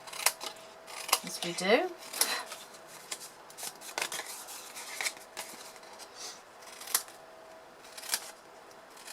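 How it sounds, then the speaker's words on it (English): Scissors snip wedges out of the corners of a paper or card panel for an embossed mosaic box, a few sharp crisp cuts mixed with rustling paper handling, close and fairly quiet, with brief talk. "Cutting those wedges out of the corners just the same"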